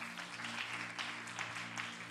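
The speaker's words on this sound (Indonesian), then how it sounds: "Tepuk tangan dulu buat Allah kita." A church congregation claps together during a Good Friday service, producing dense, sustained applause across the whole moment with a faint tonal hum underneath.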